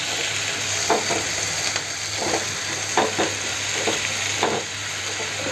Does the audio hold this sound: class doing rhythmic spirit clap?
no